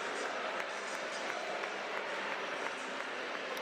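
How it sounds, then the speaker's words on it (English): North Carolina fans stand and applaud inside O'Keefe gymnasium at a North Carolina versus Georgia Tech ACC volleyball match, a steady wash of crowd clapping and noise that runs evenly through the whole stretch. "some North Carolina fans standing up and applauding"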